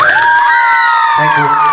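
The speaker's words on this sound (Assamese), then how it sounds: "এটা জিতুৰ কাৰণে হাত চাপৰি দিয়ক" A crowd at a live Assamese comedy stage show cheers and whoops loudly, with clapping and shrill voices rising and falling in a dense, continuous roar.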